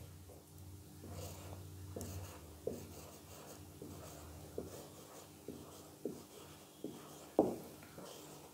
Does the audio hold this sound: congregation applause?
no